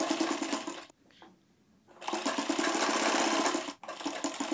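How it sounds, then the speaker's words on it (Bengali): Close, steady whirring of a sewing machine stitching a folded petticoat waistband, running in two long bursts separated by about a second of near quiet, with a brief dip before the end. "তো এখানে আমি ফোল্ড করে সেলাই করে নিচ্ছি।"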